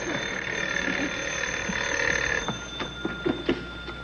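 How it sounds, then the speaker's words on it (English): Telephone ringing effect from a Jack Benny radio comedy program: a bright, continuous bell-like ring for about two and a half seconds, then several short, clattery sounds and faint voices as it stops. "Answer the phone. It might be another order."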